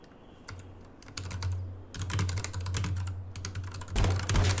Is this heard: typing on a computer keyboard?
yes